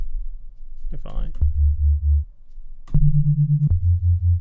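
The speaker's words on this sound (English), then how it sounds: "this is where this little jungle bass comes in" A deep buzzy jungle bass synth made of two detuned saw waves plays a few sustained notes in a sparse pattern in a liquid drum and bass track, with a brief burst of speech early on.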